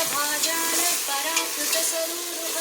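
A carrot and soya chunk biriyani mixture is stirred in a pan over a low flame, a continuous close sizzle with soft scraping strokes.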